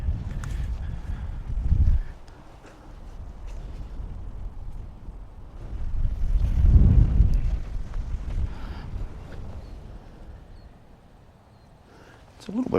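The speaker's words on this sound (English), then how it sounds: "It's a little bit breezy up here" Wind gusting outdoors on a breezy hilltop beside a vintage Ferguson TEA tractor, low rumbling buffets against the microphone that swell and fade in waves, with a voice speaking faintly at times.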